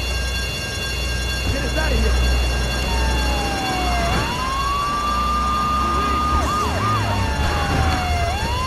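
Police siren wailing in GTA III Definitive Edition, a rising and falling tone that sweeps up and holds through most of the stretch, mixed with game music and a low rumble as a voice talks over it.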